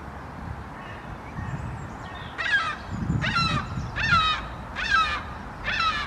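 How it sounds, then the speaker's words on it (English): Crows caw in a cemetery, giving a run of five harsh, evenly spaced calls at moderate distance over low outdoor rumble and faint background noise. "Apart from those crows down there"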